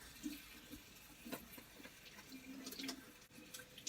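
Mushrooms rinsed under a running kitchen tap for a vegetarian lasagna, a soft steady trickle and splash of water with brief louder spurts, fairly quiet and close with no talk.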